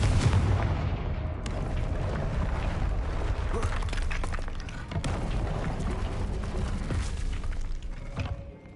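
A Confringo blasting-spell explosion in a video game, a loud booming blast that rumbles on, with a second sharp crack partway through and a fading tail.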